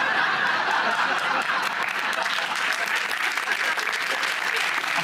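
Studio audience applause on a TV quiz show, sustained even clapping from a crowd with a few light chuckles mixed in, holding steady throughout.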